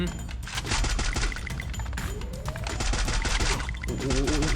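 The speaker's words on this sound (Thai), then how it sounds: "แจ็กกี้ แนวหน้าผมโดนละ ยิงทีมผมทำไม" Rapid gunfire bursts and explosions from the Free Fire battle royale game, dense and loud throughout with voices talking over the fighting.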